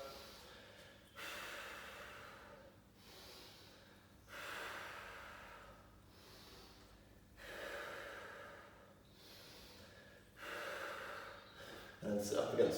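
Slow, deep breaths taken during a lower-body stretching exercise against a wall, long airy inhales and exhales swelling and fading in a steady rhythm about every two to three seconds, close and fairly soft.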